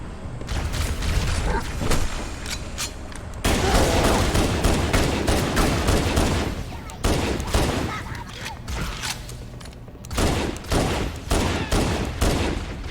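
Handgun fire in the video game Halo comes as a rapid run of loud, close shots, with bursts separated by brief pauses and some mechanical clatter in between.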